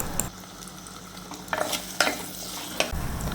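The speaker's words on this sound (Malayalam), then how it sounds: "ഇതിലേക്ക് നമുക്കൊരു 1/4 ടീസ്പൂൺ മഞ്ഞൾപ്പൊടിയും കുറച്ച് ഉപ്പും കൂടി ഇട്ട് കൊടുത്തൊന്ന് വഴറ്റാം." Raw papaya and green chili are sautéed in a pan with turmeric and salt: a few brisk spatula scrapes sound up close over a low, continuous frying sizzle.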